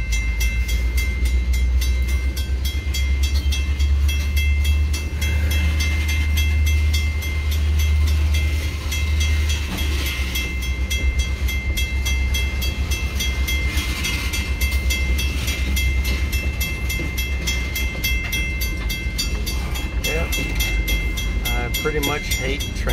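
A train rumbles steadily through a road crossing where it keeps traffic blocked, its low heavy roar close and continuous throughout, with faint muffled voices underneath.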